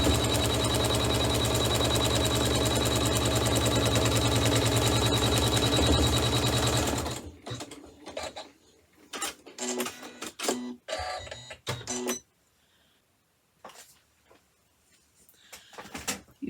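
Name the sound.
embroidery machine stitching placement line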